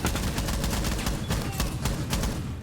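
Gunfire rattles in a Rainbow Six collegiate esports match, dense, rapid shots in loud close bursts with no pause.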